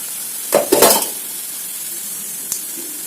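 Mustard seeds and cumin frying in hot oil, a steady sizzle with a couple of sharp popping bursts near the start and a single small pop later.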